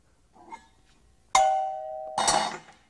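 Two bright metallic bell strikes, the first ringing out with a sustained tone before a second, clangier hit.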